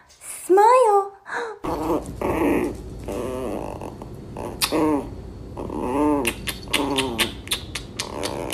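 A big German Shepherd makes whining, growling vocalizations close up, interrupted by a loud clatter, while a person talks over it.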